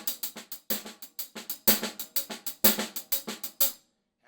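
Hands alone play the Purdie Shuffle pattern on a drum kit, crisp cymbal and snare strokes in a bouncing triplet groove with louder accented backbeats, close and dry, stopping just before the end.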